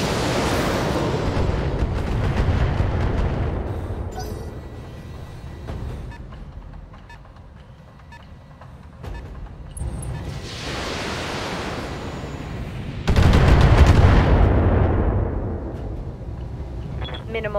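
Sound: mech weapons firing on target in video game Battletech

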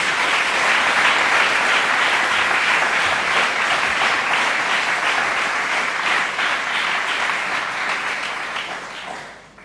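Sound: audience applause

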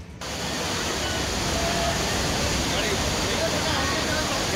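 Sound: surging floodwater of the Godavari river

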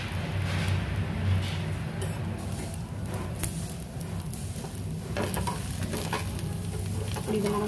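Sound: oil sizzling on a frying masala dosa

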